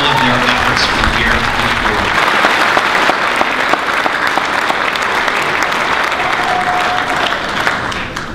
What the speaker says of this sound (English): I'd like to offer a welcome round of applause for all of their efforts